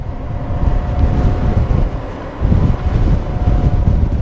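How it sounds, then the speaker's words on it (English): Wind buffets the microphone in low, rumbling gusts, loud and uneven, surging again partway through with no voices. "It's getting windy here."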